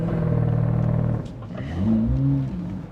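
A Dodge Durango Hellcat on a drag strip makes a loud, close engine drone that drops off, then rises again in a surging rev as it launches and accelerates.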